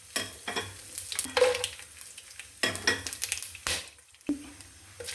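Whole spices, cinnamon, cloves, cardamom and fennel seeds, fry softly in a little oil for chicken biryani, a faint sizzle broken by a few close stirring and scraping bursts.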